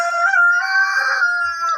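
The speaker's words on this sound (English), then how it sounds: "so the chickens are noisy." Chickens and a rooster in a farmyard during egg collecting, with one long loud crow ringing out close by for nearly two seconds, overlaid with busy clucking.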